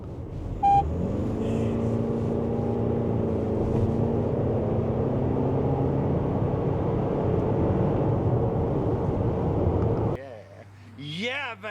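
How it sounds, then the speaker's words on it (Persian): A Toyota RAV4 in sport mode accelerates hard from 0 to 100 with a loud, sustained engine drone climbing through the gears from inside the cabin, then cuts off abruptly as a voice speaks briefly at the end. "بریم یه بار دیگه 0 تا 100 رو تست بکنیم، یه گاز باهاش بدیم."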